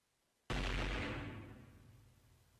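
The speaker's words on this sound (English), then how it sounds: "More explosions!" A single loud explosion in the video game Hatoful Boyfriend: Holiday Star bursts suddenly after a moment of quiet, then rumbles and slowly fades out.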